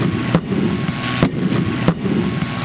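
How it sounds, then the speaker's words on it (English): Three sharp, loud explosions go off a few seconds apart at the Tanks, Trucks and Firepower 2020 military vehicle show, each a sudden boom over a steady background roar of outdoor noise. "I did say that this does contain some very loud explosions indeed."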